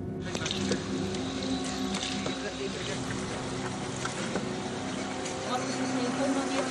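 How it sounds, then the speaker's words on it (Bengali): A motorboat moves through flood-swamped streets in Ghatal after days of steady rain, its engine a steady, close, continuous drone with faint splashing and passing background voices. "রাস্তায় বাস নেই, অটো নেই, চলছে নৌকা।"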